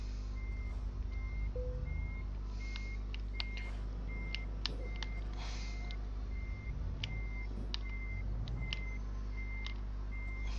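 Truck reversing alarm in Euro Truck Simulator 2: a steady series of evenly spaced high electronic beeps over a constant low engine rumble, with a few scattered clicks and brief noise bursts.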